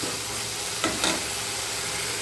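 Chicken 65 thokku gravy sizzles steadily while being sautéed in the pan, a constant frying hiss with a couple of brief stirring scrapes partway through.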